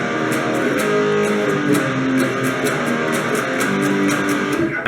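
Electric guitar playing the chorus of a song, a dense, loud, sustained wall of distorted chords strummed steadily with a driving pulse throughout, no voices.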